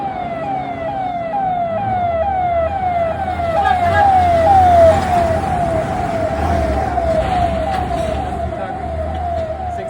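A loud fire emergency vehicle siren wails in a steady, repeating rising-and-falling cycle, close by, over a low rumble of road traffic, at an apartment fire in Hinjawadi, Pune.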